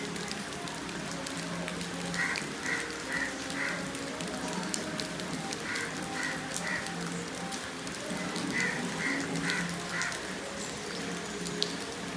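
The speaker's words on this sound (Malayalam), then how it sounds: "പിന്നെ നല്ലൊരു മഴ ഉണ്ടായിരുന്നു കേട്ടോ" Steady rain patters on a surface in a constant crackling hiss, with faint birdlike calls repeating in the distance.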